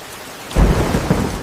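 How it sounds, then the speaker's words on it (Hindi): Heavy rain suddenly surges in with a deep rumble, a dense, loud wash of falling water. "जल्दी करो, बारिश बहुत तेज हो गई।"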